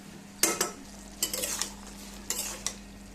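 Dried fish curry with bean seeds being sautéed in a pan: a few short scraping stirs with bursts of soft sizzle, separated by quiet gaps over a steady low hum, no talking.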